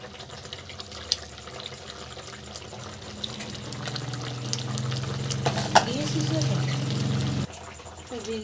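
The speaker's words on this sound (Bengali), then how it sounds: "জল দিয়ে দিলাম।" Water is poured into a pot of Bengali curry, a low gurgling splash rising over a few seconds and then cutting off, with brief clatters around it.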